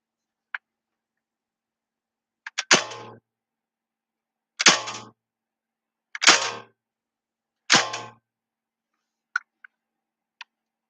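An airsoft gun set to single fire lets off four sharp, separate shots a second or two apart, with a few lighter mechanical clicks before and after, close and loud in an otherwise quiet room.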